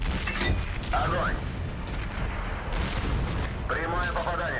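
Tank cannon fire in World of Tanks on Xbox One: heavy booming shots with low rumbling blasts and mechanical clanks, set among game voice callouts and battle noise.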